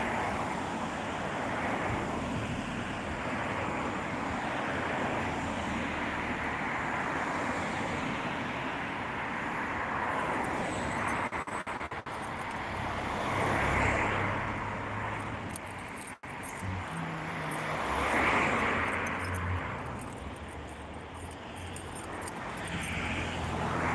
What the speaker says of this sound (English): Loads of traffic.